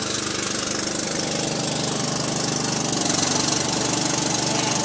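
A John Deere 210 lawn tractor engine runs at a steady idle, a loud, close, continuous rumble with a fast, even knocking pulse and no talk over it.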